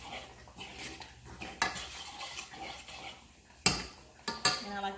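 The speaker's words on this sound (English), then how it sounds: "Okay, so I stir in the cheese." Cheese being stirred into a pan on the stove, a spoon scraping and clinking against metal in soft irregular strokes with a few sharper knocks, close and fairly quiet.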